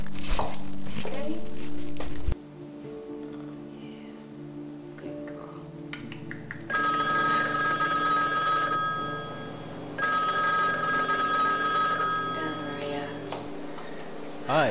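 A telephone rings in repeated loud bursts, then a man's recorded answering-machine greeting plays as the machine picks up.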